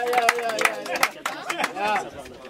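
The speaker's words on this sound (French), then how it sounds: "On peut les applaudir." An audience claps for prize winners at a surfcasting competition, with scattered claps mixed under a voice talking loudly over them.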